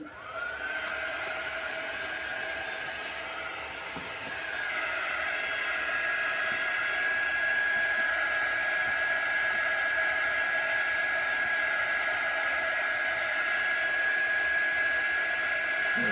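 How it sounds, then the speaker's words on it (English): A heat tool blows hot air over chalk paste in a crafting project, making a steady close whirring hiss with a faint high whine that holds for the whole stretch, with no talking. "So I use the quick dry tool. Love this tool."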